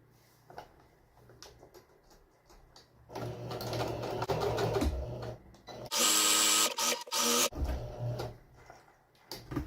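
A sewing machine stitches a French seam in fabric, starting after a quiet pause with a steady whirring run, then a louder, faster burst, and stopping and starting in short spurts near the end.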